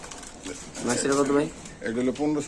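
Giribaz pigeons coo in short bursts close by at a pigeon sale, mixed with people talking.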